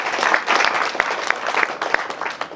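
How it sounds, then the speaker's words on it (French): A brief burst of crowd clapping at a party office installation ceremony in Nguéniène, Senegal, uneven and moderately loud, with distinct individual claps standing out. "Sous vos applaudissements"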